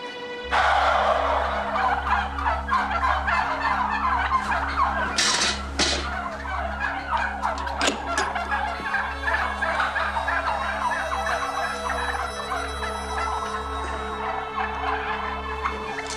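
Loud bursts of turkeys gobbling, several birds calling over one another in rapid rattling volleys, close by, over a low steady hum.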